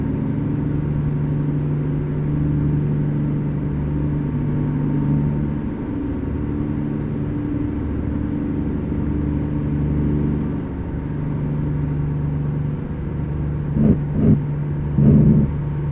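A steady, low truck engine drone in American Truck Simulator holds throughout, with a few brief bumps and clunks near the end; no one speaks.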